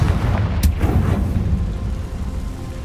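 A Confringo explosion spell from the video game Hogwarts Legacy goes off as one sharp, loud blast, leaving a dense low rumble rolling underneath for the rest of the moment, with no voices.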